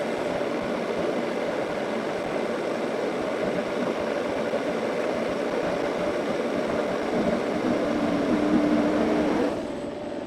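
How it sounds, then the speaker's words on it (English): A grain mill crushes malt for a pumpkin vanilla latte stout, giving a steady, continuous motorized whir and grinding rumble that runs evenly and cuts off shortly before the end. "Hot milling action."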